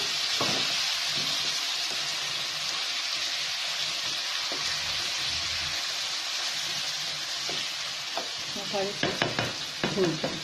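Okra frying with ginger garlic paste and salt gives a continuous sizzle, with soft stirring scrapes throughout and a few sharper utensil clinks near the end and no talking.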